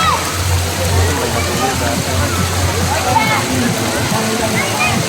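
Water pours and splashes continuously at a waterfall resort, a steady broadband rush throughout, with people talking over it.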